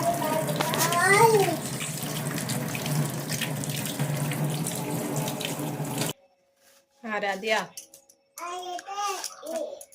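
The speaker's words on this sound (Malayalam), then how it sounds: "അപ്പോൾ ആപ്പിൾ എടുത്തിട്ട് ഞാൻ കഴുകിയിട്ട് മുറിക്കാണ് കേട്ടോ." Tap water runs steadily while an apple is washed under it at a sink, a close rushing splash for about six seconds, then stops and someone talks.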